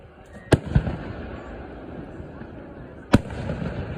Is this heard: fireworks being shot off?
yes